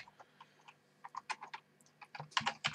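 Typing on a computer keyboard in quiet, close irregular clicks that speed up into a brisk flurry near the end, with no voices.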